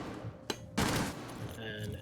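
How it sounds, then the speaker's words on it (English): Gunfire in a Rainbow Six Siege esports match, with sharp bursts of shots cracking out in quick succession over a steady bed of game sound and commentator voices talking. "They have had a couple of gunshots coming from that area"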